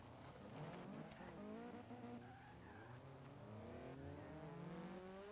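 Cars pulling away and driving off in Forza Horizon 3, engines revving and tires squealing in a dense, continuous wash of several vehicles accelerating at once.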